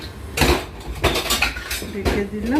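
A lid goes onto a cooking pot of chitol fish muitha curry with potatoes, making three separate bursts of metallic clatter and scraping that sound close and fairly loud.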